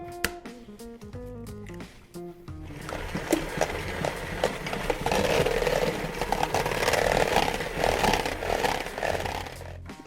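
A stand mixer starts up on slow speed and churns eggs into sticky cream puff dough, a loud steady motor whir with squishy rhythmic slaps, following brief musical notes at the start.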